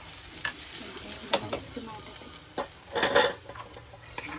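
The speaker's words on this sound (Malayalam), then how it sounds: "നമ്മളിത് കടുവൊക്കെ വറുത്ത് ഇനി സാധനം ഇട്ട് കൊടുക്കാം" Mustard seeds crackle and pop in hot oil, with scattered sharp spatters and a louder burst of sizzling near the end.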